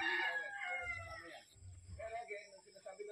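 Chickens and roosters in a small backyard coop on a farm cluck and crow nearby, with a rooster's call rising over the flock while a person talks.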